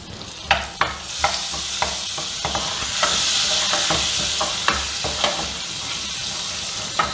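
Pepper, cardamom, cloves and cinnamon fry in oil for corn methi pulao, a loud close sizzle under a steady run of spoon scrapes and knocks against the pan, with no speech.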